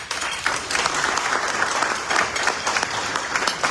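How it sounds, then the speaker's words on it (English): At a Las Vegas Rotary Club weekly meeting, members give a round of applause to honored guests Gretchen Gerson and Navy Lieutenant Carl Wright; brisk, even clapping from a modest-sized room, steady and near throughout the short burst. "Please give them a round of applause."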